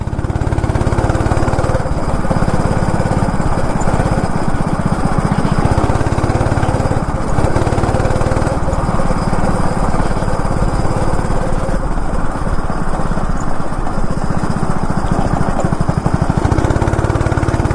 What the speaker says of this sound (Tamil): அது 2-ஸ்ட்ரோக் இன்ஜினு, இங்கே ஸ்லோ ஸ்பீடில் வந்து ஆஃப் ஆகுது